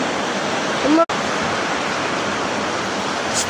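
A rising flooded river rushes in a loud, steady roar of water that fills the whole scene, with a brief sharp break partway through.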